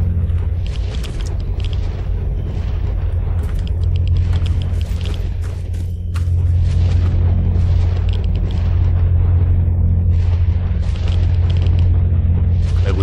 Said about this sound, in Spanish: El sonido que sueltan esas antenas